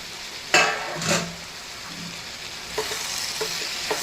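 Eggplant and tomato frying in a pan give a continuous close sizzle, broken by several spoon stirs and scrapes against the pan at irregular moments, with no voices.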